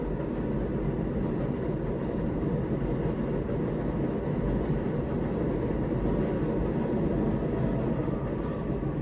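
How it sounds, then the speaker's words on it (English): A train rumbles past outdoors, a loud, continuous roar with rail clatter that stays steady throughout, with no voices over it. "Oh, there's a train."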